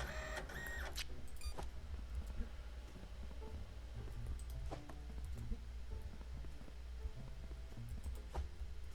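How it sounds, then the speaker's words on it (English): A printer in the video game Parcel Simulator whirs and chatters steadily at low volume, with repeated mechanical ticks and clicks running throughout. "look at that, that's a printer, bro"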